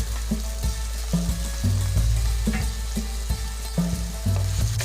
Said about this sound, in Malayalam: ആദ്യമേ ചെറിയ ഉള്ളി ഇടാം, പച്ചമുളക്, ഇഞ്ചി, വെള്ളുള്ളിയൊക്കെ ഇട്ടിട്ട് ഒന്ന് മൂപ്പിക്കാം